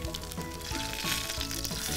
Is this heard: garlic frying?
yes